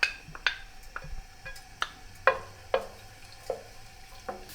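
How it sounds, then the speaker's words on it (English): Garlic frying in hot oil in a pan for shrimp and spinach fettuccine, a soft steady sizzle broken by repeated sharp clinks and scrapes of a utensil stirring against the pan, close and fairly quiet with no talk. "When the garlic started to bubble a little bit, you put the shrimp right away"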